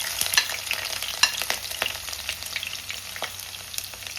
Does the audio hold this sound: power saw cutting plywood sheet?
no